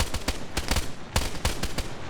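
Gunfire during an assault in a military video game, heard as a rhythmic run of sharp, fairly close shots spaced about a fifth of a second apart. The shots are moderately loud, with no voices.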